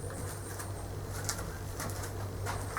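Pigeons coo softly at a nest beneath a church tower, a low steady murmur of calls running throughout under faint background ambience, with no talking.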